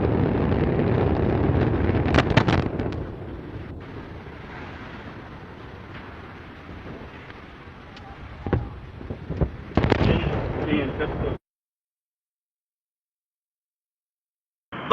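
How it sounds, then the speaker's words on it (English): Antares rocket on liftoff carrying Cygnus, a heavy, crackling engine roar with wind buffeting, sharp pops and bursts, steady for about eleven seconds before cutting off abruptly. "we have liftoff of Antares with the Orbit 3 mission delivering Cygnus on its third CRS mission to the ISS"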